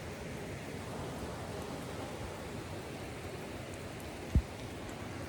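Rain falls on a hunting cabin near Dease Lake, British Columbia, a faint, even hiss with no break, interrupted once by a single short knock.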